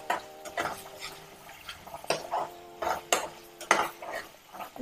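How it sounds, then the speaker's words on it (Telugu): Veg Manchurian sauce is stirred and mixed in a pan, a utensil scraping and clinking against the metal in repeated uneven strokes over a soft sizzle, fairly quiet and without talk. "ఒక 1 minute పాటు మంచిగా మిక్స్ చేసుకుందాం"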